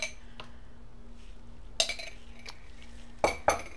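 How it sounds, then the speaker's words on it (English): A spoon or whisk clinks against a bowl while dessert ingredients are mixed, a few sharp scraping taps over a quiet background hum. "let's go ahead and mix that up"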